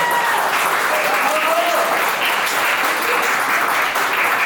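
Wedding guests applaud at a fall reception, a steady, dense wash of clapping from a nearby crowd with some voices mixed in, sustained at an even level throughout.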